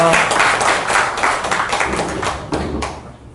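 A party rally crowd claps in a dense burst of applause that tapers off over a few seconds, loud and close in a hall.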